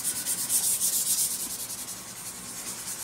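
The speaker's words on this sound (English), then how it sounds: "get some sandpaper. I do 220 grit and smooth it off." Fine 220-grit sandpaper rubs across a wood lathe during maintenance, making a close, steady, rhythmic scratching of back-and-forth strokes with no talking.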